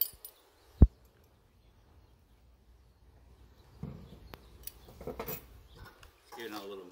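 A utensil clinks and scrapes through mango habanero salsa in a bowl, with a sharp early knock, then a few seconds of quiet before soft intermittent stirring clatter.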